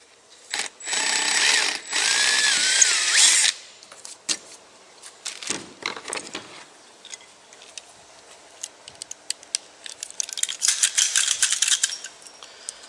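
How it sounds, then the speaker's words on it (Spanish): A power drill bores a rivet hole through plastic kayak hull, starting with a sustained whine for a few seconds, then continuing as short bursts, clicks and handling rattles. "practicamos el otro agujero para colocar el segundo remache"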